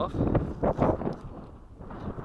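Gusty outdoor wind buffets the microphone in surges at a flying field where a glider is being prepared, with a voice faintly under the rumble.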